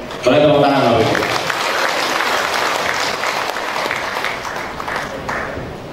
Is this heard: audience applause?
yes